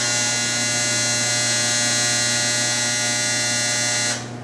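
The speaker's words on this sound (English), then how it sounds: "That's my dryer saying, remember me?" A home clothes dryer sounds its end-of-cycle signal, a loud, steady electronic buzzing tone that holds for about four seconds and then cuts off abruptly, close and alone without talking.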